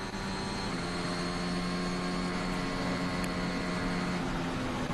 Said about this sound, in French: On entend la récupération d'énergie.